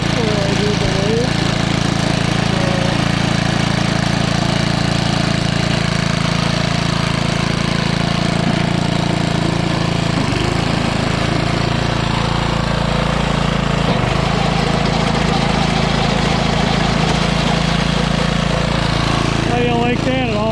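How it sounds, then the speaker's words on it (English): An estate sale rototiller's engine runs steadily and loud up close, a rough, knocking mid-pitched drone with a chugging pulse that holds for the full twenty seconds, oil burning off its muffler. "How do you like that? It all works."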